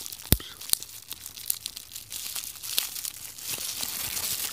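Sticker tearing on Antsy Labs fidget cube packaging during an unboxing, with crisp crinkling and peeling crackles and a few sharp snaps, close and fairly quiet, no talk.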